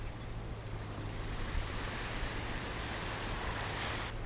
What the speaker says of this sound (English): I'm on a very deserted small beach.